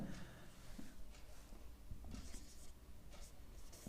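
Marker or chalk writing on a classroom board during a Class 10 maths lesson, a faint, steady scratching and rubbing with brief stroke accents, heard alone without speech.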